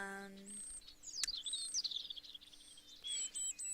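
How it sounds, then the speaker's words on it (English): Birds chirp outside in quick high tweets and short trills, fairly faint and scattered across the moment, with a brief low voice-like tone at the very start. "I hope the sounds aren't too loud with the birds and all."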